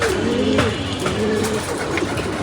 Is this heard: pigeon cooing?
yes